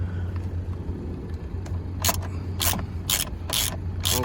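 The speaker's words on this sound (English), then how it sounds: "So I'm gonna start by cracking this bolt loose." Ratchet wrench clicking in about five quick bursts as it cracks loose an airbag bolt on a 10th-generation Honda Civic steering wheel, close up over a steady low engine hum from the idling car.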